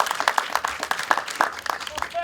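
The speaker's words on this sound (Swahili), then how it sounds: "Pige makofi vizuri tafadhali." Audience applause at the handover of a special needs classroom at Dagoretti Primary School: scattered, uneven hand claps of moderate loudness, with voices mixed in.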